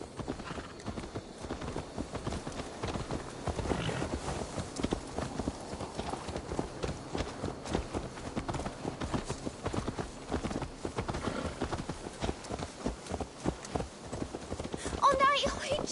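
Horse hooves clip-clopping in Assassin's Creed Valhalla, a steady rhythmic trot of hoofbeats continuing under game dialogue and ambient sound, moderately quiet, with a brief brighter sound near the end.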